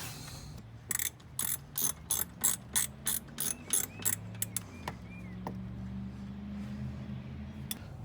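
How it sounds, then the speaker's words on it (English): A hand ratchet tightening the belt tensioner bolts on a 2008 Ford F150 pickup, a rhythmic run of about a dozen close, even clicking strokes, then a low drone of running machinery with a few scattered clicks. "I got the belt tensioner bolts all tightened up"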